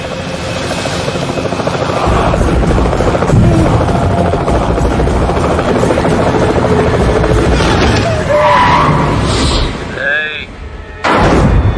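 Loud, continuous helicopter rotor noise dominates, with voices speaking over it and a few sharp bangs near the end.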